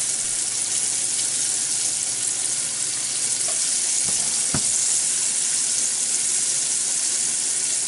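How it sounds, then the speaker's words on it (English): Crappie fillets fry in hot grease, giving a steady, bright crackling sizzle that fills the whole clip, close and even, with a couple of faint clinks partway through and no voices. "Grease is still hot here at sizzle."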